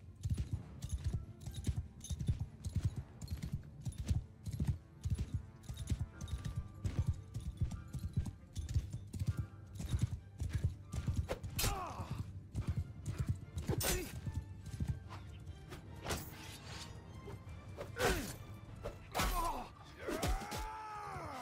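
Horse hooves in the video game Mount & Blade II: Bannerlord, a quick, steady clip-clop of galloping that runs throughout, mixed with whinnies, clashes and other battle sounds, moderately quiet.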